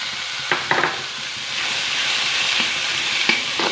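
Steady sizzling of chickpeas and potatoes frying in a pan, with a few scraping stirs, close and moderately loud, no voices.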